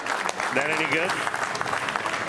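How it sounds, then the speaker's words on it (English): Applause at a PBA bowling playoff match, with a crowd clapping steadily as an announcer's voice and other talk carry over the top. "Even he applauded. That's how good it was."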